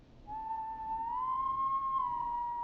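A single sustained whistle in the video game Killer Frequency, starting abruptly and holding a clear, slightly rising tone for about two seconds, alone over faint background hiss.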